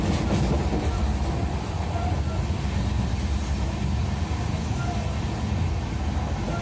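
A passenger train on the Rohtak-Hisar line rolls along slowly, a steady close rumble with faint wheel clatter, heard from on board with no clear talk.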